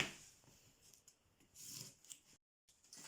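Scissors snip through costume material in a few quiet, rasping cuts with a short silent gap, close and faint, with no talking.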